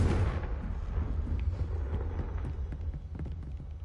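A Confringo fire-spell blast in Hogwarts Legacy, a deep booming explosion at the start that rumbles and slowly fades, with some light crackling after it.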